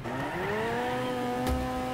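A car engine in the demolition racing game Next Car Game, a steady high revving whine that holds its pitch and climbs slightly, with a brief thump near the end.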